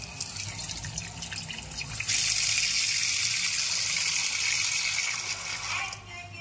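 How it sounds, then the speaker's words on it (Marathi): Bangda mackerel being rinsed clean under a running tap, a steady loud rush of water that starts abruptly and pours continuously, then eases off near the end. "आणि आता हे बांगडे स्वच्छ धुवून घेऊयात."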